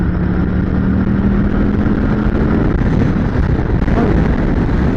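A Harley-Davidson Street Glide CVO motorcycle being ridden, its engine a loud, constant low rumble with steady throttle, heavy wind roar throughout and a sustained drone early on.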